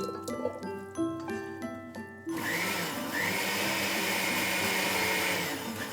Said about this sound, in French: Donc la la sauce, graisse. on va la passer au mixeur.